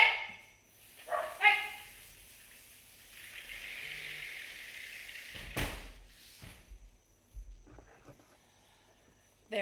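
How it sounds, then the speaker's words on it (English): Indoors, a dog gives a couple of loud barks, then a door is shut with a single sharp thud, followed by quieter rustling and faint knocks. "after I shut this door so that my dog will not be so loud."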